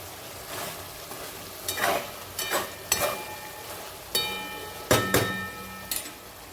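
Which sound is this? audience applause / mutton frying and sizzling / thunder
mutton frying and sizzling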